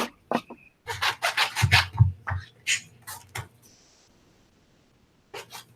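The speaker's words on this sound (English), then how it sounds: "I'm fussy cutting out a bunch of images, and I'm just doing my base cut first" Scissors make rough base cuts around paper images for a crafting project: irregular clusters of close snips and paper rustles, followed by a quiet pause and a few more cuts at the end.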